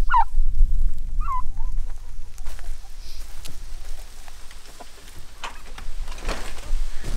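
Turkey hens on a small farm give a few short high calls and clucks early on, over steady low rumbling outdoor noise and scattered taps, moderately close with no speech.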